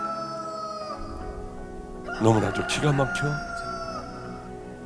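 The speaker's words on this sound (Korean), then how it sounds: "바로 닭울음 소리가 들려요." A rooster crows once in the middle of a church sermon, a loud wavering call rising over steady background tones. Someone speaks over the same stretch.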